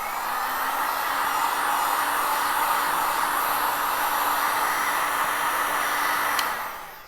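A hot air blower runs steadily and close by while heating buttercream, giving a continuous loud whooshing hiss with a faint motor whine that tails off at the end.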